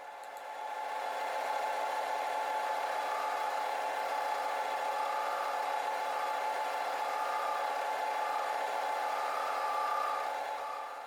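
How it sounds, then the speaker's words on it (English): A bandsaw cuts a nub off an apple and resin bowl blank, producing a steady, even whirring whine that rises in and holds for about ten seconds before easing off. "I'll cut this nub off on the bandsaw."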